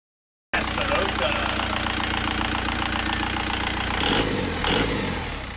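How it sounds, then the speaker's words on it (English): Beta Marine 85 hp diesel boat engine starting up for its first test after installation, springing to life after a moment of silence and settling into a loud, steady knocking idle, with voices briefly over it. "the engine finally aligned, it's almost time for our first test"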